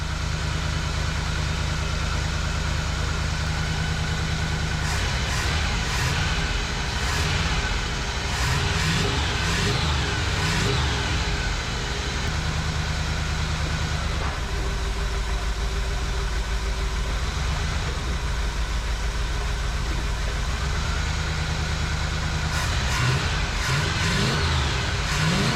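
A big block V8 swapped into a family station wagon idles with a low, steady rumble, then revs up in several bursts, running slightly rough with a small miss, loud and close with no talking.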